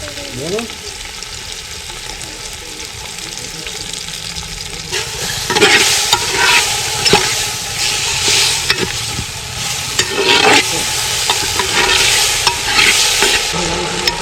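Tomato, onion and garlic paste frying in a pan for a village-style curry, with a steady sizzle and repeated scraping strokes of a spoon stirring through it, loud and close, no voices.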